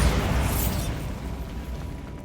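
Bombarda spell explosion in the Hogwarts Legacy video game, a loud booming blast right at the start that rumbles and decays over about two seconds, heard alone.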